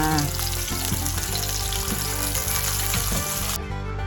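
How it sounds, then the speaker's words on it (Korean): Steady, dense sizzling of salmon frying in a hot pan, continuous and close, with faint clinks and stirring underneath. "이제 연어는 거의 다 구워졌습니다."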